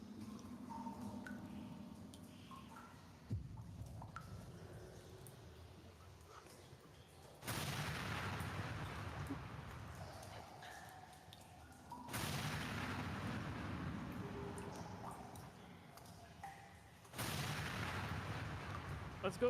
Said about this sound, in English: Bingo's dynamite begins exploding